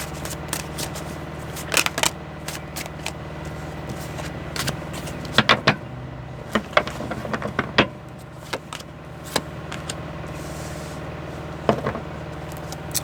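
Tarot cards being shuffled and drawn by hand, soft papery riffles and sharp flicks scattered across a low background hum, close and moderately loud, with no talking.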